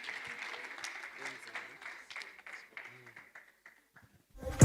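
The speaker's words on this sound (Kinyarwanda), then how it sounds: "Amashyi menshi cyane kuri Kwizera" Applause from a comedy-show audience for comedian Kwizera Olivier, a moderate scattered clapping bed heard under ongoing talk, fading out toward the end before a sudden loud thump.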